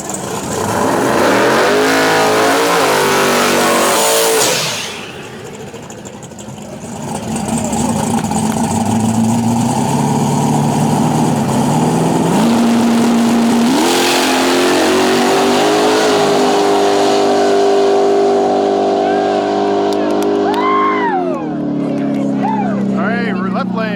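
Small-tire drag racing cars launch side by side on fresh asphalt at a Canadian drag strip, engines roaring loud and close, dipping briefly then surging into sustained high revving with rising pitch sweeps as they pull away.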